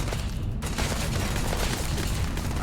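Dense, continuous gunfire in Starfield crackles loudly throughout, a steady barrage of rapid shots blended with booming impacts and no clear pauses.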